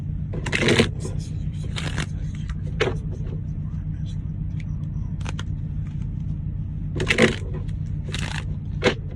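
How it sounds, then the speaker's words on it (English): A deck of playing cards is shuffled close by in several quick, crisp riffling bursts separated by pauses, over a steady low rumble. "I didn't even shuffle these cards."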